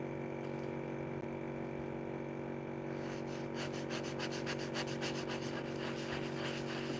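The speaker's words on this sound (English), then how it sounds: "Over here, it still needs to be sanded." Sandpaper rubs over paint runs in circular motions, a soft, rhythmic scratchy rasp that becomes more pronounced and regularly pulsed in the second half, heard close and faint over a steady low hum.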